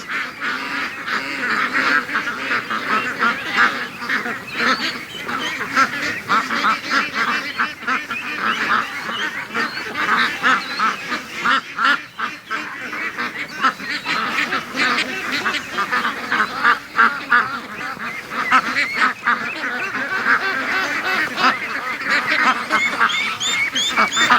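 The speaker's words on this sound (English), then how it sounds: "Oh, there's a bunch up front eating clippings. The geese are going at it, but the ducks are not that interested." A flock of geese and ducks feeding on grass clippings, with dense overlapping honks and quacks that continue loudly and steadily for the whole stretch.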